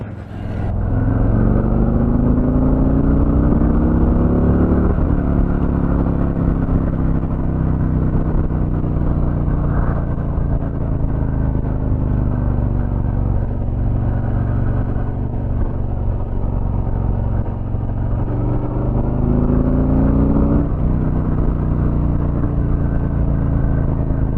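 A Milwaukee-Eight 114 motorcycle engine runs steadily and loud throughout, a deep continuous rumble with a few rising revs near the start and around the twenty-second mark.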